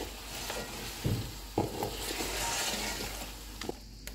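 Mutton karahi sizzling and frying in a pan as it is mixed with a little added water, a steady hiss with a few soft scraping knocks from the stirring, close and alone.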